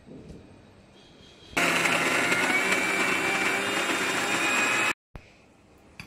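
A mixer grinder churns rice batter with salt and a little water, bursting on loudly after a quiet start, roaring steadily for several seconds, then cutting off abruptly.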